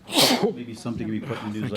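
A single sharp sneeze bursts out during a city council meeting in Joliet, loud and close at the start, followed immediately by a person talking.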